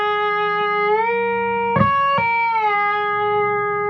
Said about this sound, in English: if you add a little bit of distortion, you can kind of get some interesting country licks